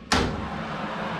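A home oven door swings shut with one sharp, loud clunk, followed by a low hum from the oven while chicken drumsticks roast.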